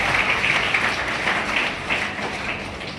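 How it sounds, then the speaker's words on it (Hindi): Steady applause from an audience at a school function at DAV Model School Suliyari, a continuous clapping wash lasting throughout without speech. "रीजनल डायरेक्टर श्रीमान अमिताभ श्रीवास्तव जी, आपके लिए भी जोरदार तालियों के साथ आपका सम्मान करें।"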